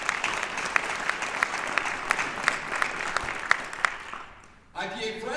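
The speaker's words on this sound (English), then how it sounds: "How about a round of applause for them?" A conference crowd claps steadily for several seconds, dense and sustained, then the applause stops abruptly and a voice begins speaking.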